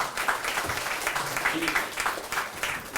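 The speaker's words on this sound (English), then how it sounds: "Give Billy a round of applause." Audience applause for the Register of Deeds at a Norfolk County Sheriff's Office media event, a steady wash of clapping lasting about three seconds, with talking audible underneath.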